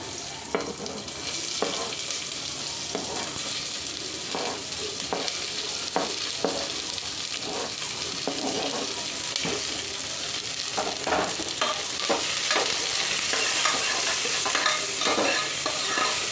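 Onions fry in a pan for kuska biryani, a dense continuous sizzle broken by regular scraping stirs of a spoon against the pan, close and steady throughout.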